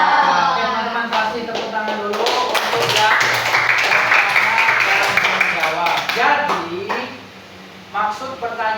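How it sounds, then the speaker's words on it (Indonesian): Students in a classroom give applause for a classmate's answer, a dense burst of clapping that swells and fades with speech over it. "teman-teman kasih tepuk tangan dulu untuk yang pertama"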